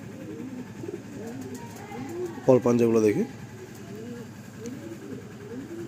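Pigeons in a loft give a short burst of cooing near the middle, with a man's speech running throughout and mostly covering the soft bird sounds.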